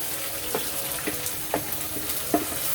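Rice with ginger garlic paste, green chili and salt sizzles steadily in a pan, with soft spatula scrapes of stirring recurring about every half second.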